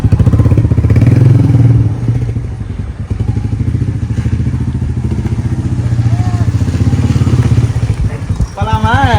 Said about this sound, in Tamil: இப்போ போகிறோம் புல்லட்ல போக போகிறோம்